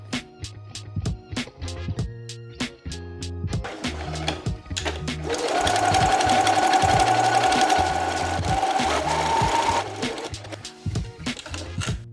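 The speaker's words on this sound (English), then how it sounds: "Then I sewed the pieces together at 1 inch seam allowance." A sewing machine stitches bridesmaid gown pieces together at a 1 inch seam, running in rapid rhythmic bursts with short pauses, then a longer steady whirring stretch in the middle, close and clear with no talking.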